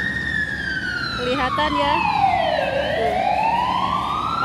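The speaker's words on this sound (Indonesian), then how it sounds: "Pas ada suara ambulan tuh dekat." A wailing ambulance siren sweeps down and back up in pitch, loud and close, over traffic rumble from the road below in Hong Kong, with a brief voice speaking underneath.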